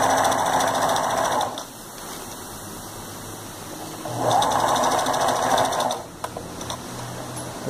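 A straight-stitch sewing machine runs in two bursts of rapid, even stitching about two seconds each, separated by quieter pauses with light handling noises, close up and without speech.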